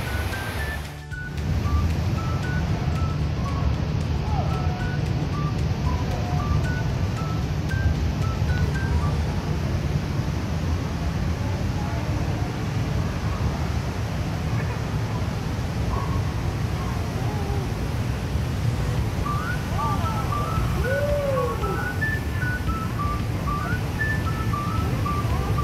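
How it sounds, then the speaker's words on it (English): Indoor waterfall at the Jewel complex in Changi Airport, Singapore, a constant broad rushing roar of falling water, steady and loud throughout, with faint distant voices and a few brief tonal chirps within the hall. "I can just sit and watch this waterfall for a day."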